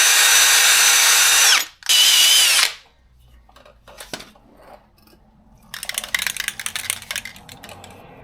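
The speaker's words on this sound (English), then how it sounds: "So now we'll just clean this up with a wire brush" A drill fitted with a wire brush scrubs a rusty truck frame in two loud close bursts, followed by quieter scraping and clattering, then a run of rapid gritty brushing.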